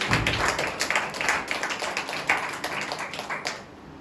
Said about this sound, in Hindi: आइए जोरदार तालियां बजाएं परमेश्वर को।